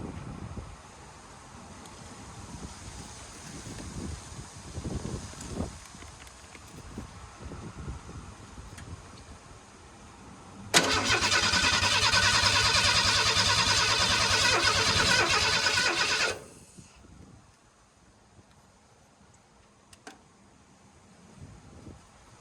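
A 1991 Ford F150 engine cranks over with the ignition switched off, so it never fires: about five seconds of steady, loud starter whirring that cuts off abruptly. Quiet background noise surrounds it, and no one speaks.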